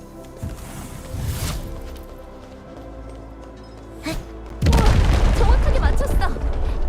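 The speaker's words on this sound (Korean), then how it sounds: "만점짜리 폭발인걸?" A big explosion in the video game Endfield: a deep booming blast bursts in partway through and rumbles loudly to the end, after quieter game sounds and a brief thump.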